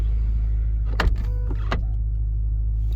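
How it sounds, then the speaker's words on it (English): The powered soft-close door of a BMW F10 M5 draws shut with a brief motor whir and two soft thuds, heard over a steady low engine hum inside the car. "Not only it has the powered doors."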